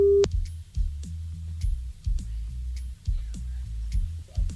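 Telephone busy signal after a dropped call: one short tone at the start, then repeated low pulsing beeps in a steady rhythm, fairly loud and continuing alone.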